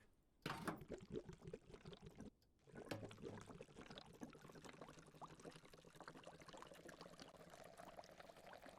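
Liquid is poured into a spare container for a truck in the Drive Beyond Horizons driving game. A short splash and pause lead into a long, steady close-up pour that trickles and gurgles as it fills.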